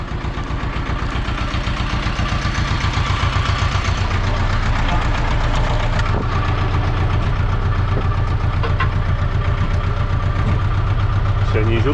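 A tractor engine idles nearby with a steady, loud, rhythmic diesel throb that runs continuously under occasional voices.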